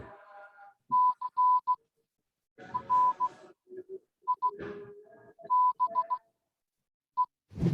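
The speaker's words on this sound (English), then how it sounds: "That's Morse code" Morse code comes through as short and long beeps of a single steady pitch in irregular bursts, clean and close against silence, with a few faint background noises between groups.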